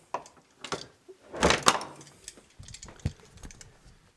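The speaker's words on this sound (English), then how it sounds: "I have to close the door." A door is shut with a cluster of knocks and a louder thud in the middle, then a few scattered clicks and taps, close and fairly loud with no one speaking.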